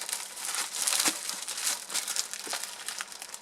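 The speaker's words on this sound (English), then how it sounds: "I want to show you the kind of wrapper that I'm using." Thin round egg roll wrappers for cheesy jalapeno egg rolls being handled, giving a steady close crinkling and crackling of papery sheets with a few sharper rustles, no talking.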